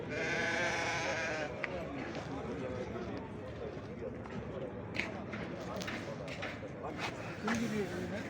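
Sheep bleating amid a shuffling flock at a livestock market, several high calls over rustling movement, with people talking nearby.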